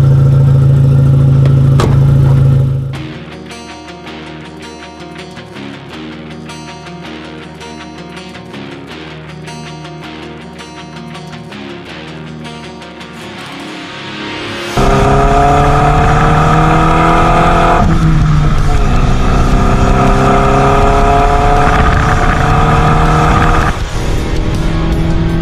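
An Audi TT Quattro Sport runs loudly at first, drops to a low idle-like rumble for several seconds, then pulls away hard with rising revs and gear changes while driving.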